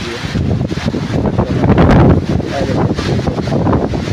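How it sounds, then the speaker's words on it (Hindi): Strong wind in a storm with heavy rain in Lahore buffets the microphone in a steady, loud, rumbling roar with gusts, and faint voices are barely audible beneath it. "बड़ी तेज हवा चलती"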